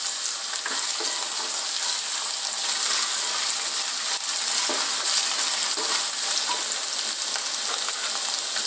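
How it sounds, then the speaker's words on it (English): Garlic and ginger sizzle steadily in hot oil in a wok over high heat, a dense, continuous crackling frying hiss with occasional stir clatters, loud and close with no talking. "We're going to drop in some more garlic and ginger. Just for a few seconds, let's infuse that oil."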